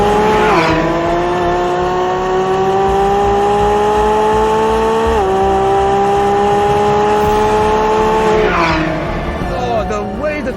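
A 2024 Lamborghini Revuelto hybrid V12 supercar of just over 1,000 horsepower accelerates hard, a loud, close engine howl rising through the gears with two brief dips at the shifts, and a voice talks over it.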